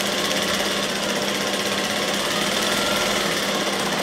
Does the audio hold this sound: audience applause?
no